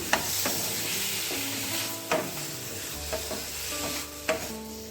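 Chopped tomato frying with browned onions in a pan for a black chana gravy, a steady close sizzle broken by several sharp scrapes and clinks of a stirring spoon.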